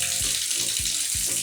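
Water poured over oneself from a container in a cheap hotel washroom in Varanasi with no shower, a steady loud splashing stream with a few rhythmic dips, close with no talking.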